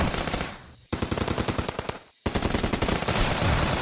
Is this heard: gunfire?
yes